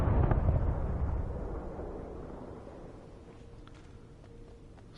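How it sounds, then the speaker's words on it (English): A big video-game explosion bursts out loud at the start, its low rumble slowly fading and dying away across several seconds, with faint scattered sounds near the end and no talking. "Some explosion."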